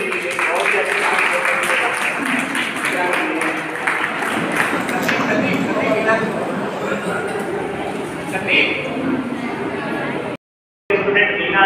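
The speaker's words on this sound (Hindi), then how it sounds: "इसके बाद तालियां बजती रहनी चाहिए" Applause from an audience at a school student award ceremony, as parents and students are called up; dense, steady clapping and crowd noise fill most of the stretch before a brief cutout near the end.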